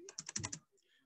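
Quick burst of about six keystrokes on a computer's numeric keypad, close and crisp, followed by a few faint softer clicks.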